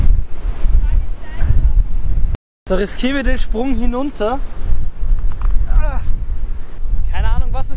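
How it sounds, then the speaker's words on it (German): Strong gusts buffet an outdoor microphone near the sea with a heavy, rumbling roar that runs almost throughout, dropping out for a moment, while someone talks over it. "Keine Ahnung, was das für eine Windstärke sein soll, aber es ist stark."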